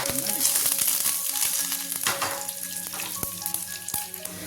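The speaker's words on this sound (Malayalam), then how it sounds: "കടുക് പൊട്ടിയിട്ടുണ്ട് രണ്ട് പച്ചമുളകും കുറച്ച് കറിവേപ്പിലയും കൂടെ" Green chillies and curry leaves hit coconut oil with popped mustard seeds for beetroot kichadi, producing a loud, close, continuous sizzle speckled with sharp crackles.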